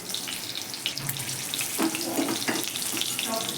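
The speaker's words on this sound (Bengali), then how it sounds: "তেল গরম হয়ে গিয়েছে। গোটা জিরে, ফোড়নে" Whole cumin seeds and a few chillies crackle in hot oil as tempering for a mango dal, a steady broadband sizzle with brief louder spits, close and continuous throughout.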